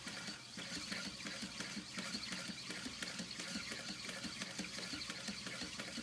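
A sewing machine stitches slowly through a pouch's bag lining beside the piping, a steady rapid mechanical chatter running evenly throughout with no voice.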